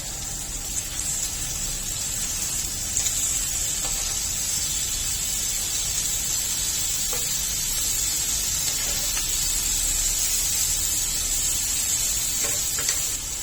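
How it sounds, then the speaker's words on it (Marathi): Bone-in chicken pieces for butter chicken fry in a pan with a steady, close, even sizzling hiss that runs unbroken, with a few faint clinks along the way. "पॅन मध्ये घातलेले चिकनचे तुकडे दोन्ही बाजूनी चांगले तळून घ्यायचे।"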